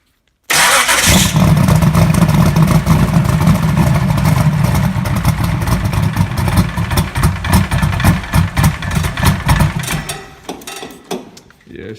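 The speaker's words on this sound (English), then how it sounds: "I'll turn the ignition on first." A cold turbocharged small-block Chevrolet engine in a third-generation Camaro cranks and fires, then runs loud and rough for about ten seconds before the revs drop and it sputters and fades; a voice is heard briefly under the engine.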